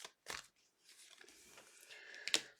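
Tarot cards are shuffled in a few quick, soft riffling and rustling bursts, close and quiet, separated by near silence.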